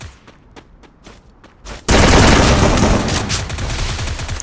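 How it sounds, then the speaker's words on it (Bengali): Vector submachine gun fire in the Free Fire game: a few faint distant shots, then a sudden loud, sustained rapid burst of automatic fire close by. "কে ডবল ভিক্টর দিয়ে ফায়ার করতেছে"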